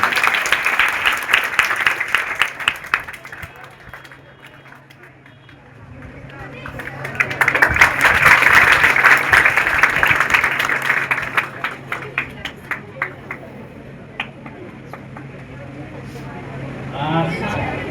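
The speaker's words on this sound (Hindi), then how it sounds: "जोरदार ताली।" Loud applause from an audience at a school felicitation ceremony, a sustained burst of clapping that swells, fades, then rises again with scattered claps and voices mixed in.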